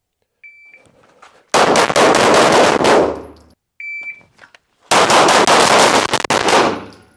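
A high electronic beep starts each of two strings of Glock 17 pistol fire, and each string is a loud, rapid run of sharp shots lasting a couple of seconds.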